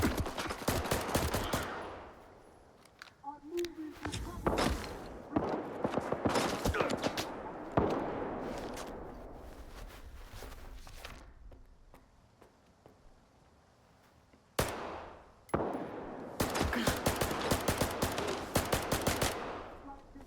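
Shotgun fire in the video game S.T.A.L.K.E.R. 2 comes in loud, rapid bursts of overlapping blasts, separated by brief quieter gaps, with a long lull near the middle before the barrage resumes.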